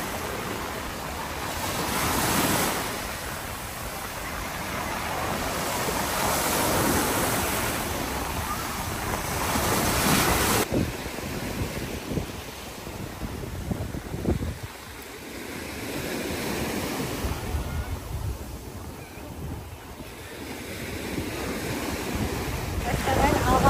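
Sea waves break and wash onto a sandy beach with fine sand, the surf swelling and receding in long surges under gusts of wind noise across the microphone.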